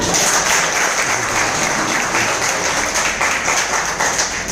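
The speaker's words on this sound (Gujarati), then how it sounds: "તારાબેન, મનીષાબેન અને રાજુભાઈ માટે જોરદાર તાળી." Loud, dense applause from a large audience at a business meeting, continuous clapping filling the room close up and steady throughout, with no speech over it.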